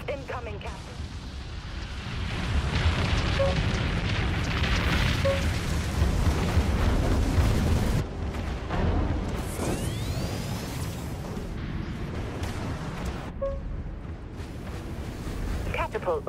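Enemy missiles explode against a ship in the Dreadnought video game, producing a sustained roar of blasts, booms and whooshing rumble with a dense low-end wash throughout.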